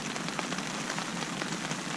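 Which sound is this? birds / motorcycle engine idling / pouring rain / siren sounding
pouring rain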